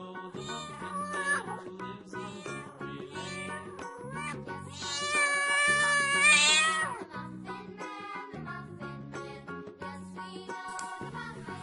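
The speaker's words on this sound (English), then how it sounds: "cat." A domestic cat meows several times over the full length, the calls rising and falling in a steady sequence, with one louder, more drawn-out cry near the middle, clear and close with no talking.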